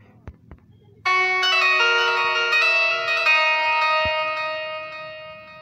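In FL Studio Mobile, a bright, ringing bell is struck once after a quiet start and run through a trance tap delay effect, so its tone sustains and slowly fades over several seconds with echoes carrying it on.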